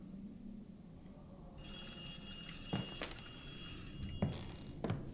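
A telephone rings in a horror video game, a faint metallic trilling bell starting partway through and continuing steadily, with a few soft thuds and clicks in the quiet, hushed ambience.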